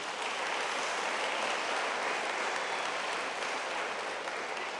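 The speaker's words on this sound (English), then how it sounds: "Let's give them a round of applause." An audience at a high school graduation ceremony claps steadily, a dense even wash of applause that holds at the same level for several seconds with no voices.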